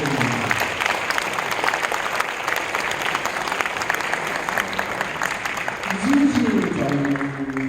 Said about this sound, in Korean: 여러분 크게 한번 박수 드립니다.